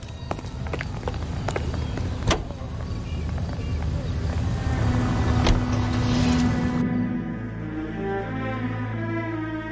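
A car from the game L.A. Noire drives along with a steady engine rumble, joined by sharp clattering knocks and a rising hum toward the end, while voices talk over it.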